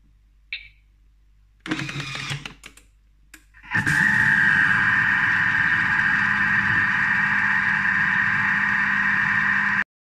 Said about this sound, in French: on va venir donc mettre le couvercle et le gobelet doseur pour mixer le tout 1 minute, vitesse 3